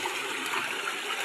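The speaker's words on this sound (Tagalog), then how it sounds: "Lagos-los na nga ang tubig mga guys oh." A small stream's water flowing fast along its course, a steady, close rushing and gurgling wash with no pauses and no speech.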